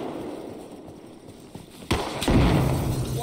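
Gunfire in Arma Reforger, with a few sharp, fairly near shots and thuds cutting through a dull, noisy battlefield background.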